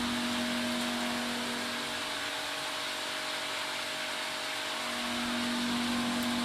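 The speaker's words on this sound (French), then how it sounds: "on allume le moteur toujours en position manuelle pendant une vingtaine de secondes" A swimming pool filter pump motor runs steadily, a faint, even electric hum with a constant tonal whine and no change in pitch.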